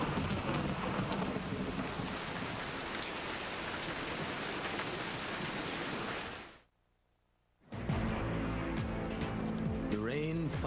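Heavy rain pours during a thunderstorm over an outdoor aerial performance platform, a dense continuous hiss with low rumbling, broken by a brief near-silent gap before the downpour returns, a voice speaking over it.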